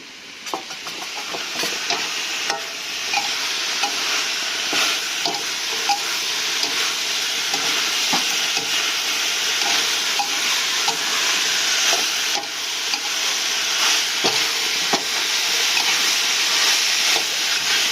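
Onion flower stalks stir-fry in a hot pan with a steady, loud sizzle and hiss throughout, broken by frequent light scrapes and taps of the stirring utensil.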